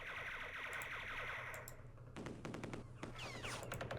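Gunfire from units in the Vietnam-era war game Campaign Series Vietnam, faint and distant-sounding, with scattered sharp shots turning into quick rattling bursts in the second half over a low background hum.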